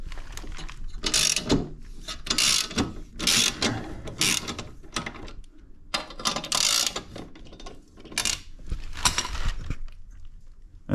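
A hand ratchet loosens bolts on a Honda HRN216VKA push mower, giving repeated quick bursts of metallic clicking in rhythmic strokes with brief pauses between, close and clear.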